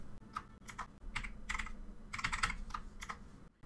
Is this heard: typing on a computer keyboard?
yes